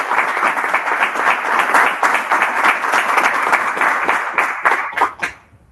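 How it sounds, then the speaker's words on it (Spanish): A crowd claps loudly and steadily for several seconds at a business panel event, a dense wash of applause that fades out quickly at the end. "un fuerte aplauso para"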